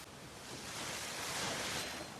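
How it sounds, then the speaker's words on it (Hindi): Fast mountain water rushes steadily near a waterfall on a steep Himalayan road toward Gangnani, a loud broadband roar with no voices. "भाई, बहुत तेज पानी। और एक झरना ये भी है।"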